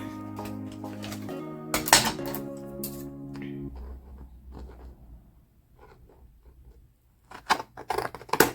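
Scissors snip through clear plastic film for a papercraft project, a few crisp cuts early on, then quieter rustling and handling before a burst of sharper snips and clicks near the end.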